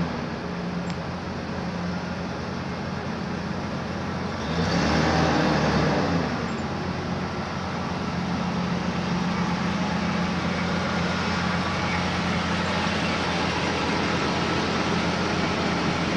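A vehicle engine starts inside an automated parking system and then idles, with a brief louder swell at startup settling into a steady, continuous hum under an even mechanical background drone.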